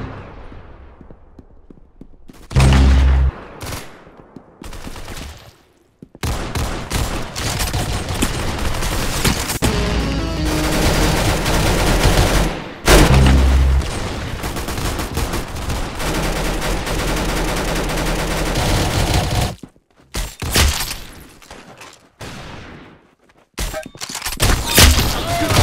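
Gunfire in the Roblox shooter Arsenal: repeated bursts of rapid automatic fire and loud thumping shots, close and dense, broken by short pauses and quieter stretches of game sound.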